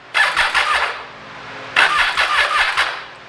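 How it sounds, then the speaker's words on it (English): Triumph Tiger 800XC motorcycle cranking over with the key, two bursts of harsh, rapid starter whirring and grinding, loud and close, separated by a short pause. "Let's go ahead and turn the key, and let's see if this turns this motor over properly now."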